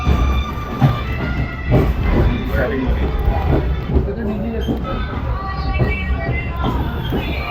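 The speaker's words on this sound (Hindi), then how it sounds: "अभी ट्रेन की स्पीड आहिस्ता हुई है" A passenger train slows as it nears a station, a steady low rumble of wheels on rails under continuous nearby talking and a faint murmur from the carriage.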